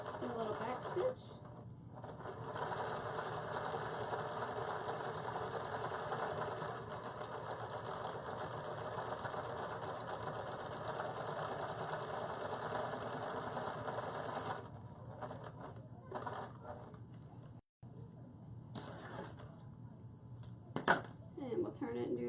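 Sewing machine stitching along the sides of a card holder, a close, loud, steady mechanical whirr that runs continuously for a long stretch, then stops and restarts in short bursts near the end.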